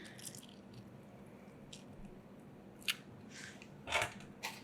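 Fresh lemon squeezed by hand over a bulgur salad, giving a few soft close-up squishes and juicy drips in a quiet kitchen.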